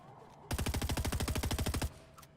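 Rapid automatic gunfire in the video game Fortnite, a single sustained burst of about twenty evenly spaced, punchy shots lasting over a second, loud and close, with no voices over it.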